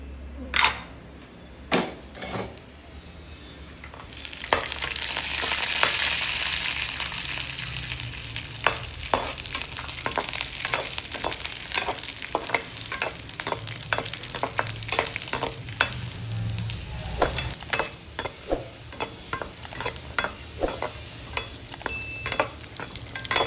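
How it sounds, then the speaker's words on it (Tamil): Cashew nuts frying in ghee in a pan for moong dal payasam: a steady close sizzle broken by frequent sharp spoon taps and scrapes against the pan, with no voices. "முந்திரி பருப்பை வறுத்துக்கலாம்"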